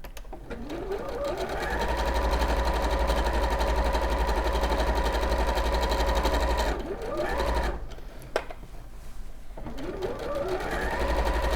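A home sewing machine stitches two fabric handle strips for a bag, giving a steady close rhythmic whirring hum that runs for several seconds, halts briefly twice, then resumes.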